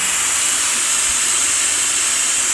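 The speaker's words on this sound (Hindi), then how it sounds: "मेरे कुकर में ये अटैचमेंट है, इससे मैं थोड़ा सा इसको हटा लेती हूँ कभी कभी ना।" Steam hisses steadily from a pressure cooker as its attachment is lifted while rajma and rice cook, a loud, continuous broadband rush that holds unchanged throughout at close range.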